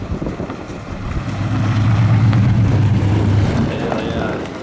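A New Edge Ford Mustang drifting on a track, heard as a loud, sustained engine roar with tire noise that swells and holds, blurred by heavy wind buffeting on the microphone.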